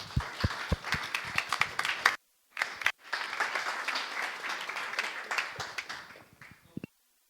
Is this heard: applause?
yes